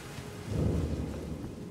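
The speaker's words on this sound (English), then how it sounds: "Raining out there." Rain and thunder in the video game Elden Ring: a steady wash of rainfall with a low rumble of thunder swelling briefly in the middle, fairly close and with no talk.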